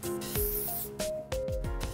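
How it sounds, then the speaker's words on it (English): Joico Design Works hairspray sprayed from an aerosol can at a distance onto hair, several short hissing bursts in a quick series, fairly close, with no talking. "So I'm gonna use a little bit of our Design Works hairspray by Joico. Spray it from afar,"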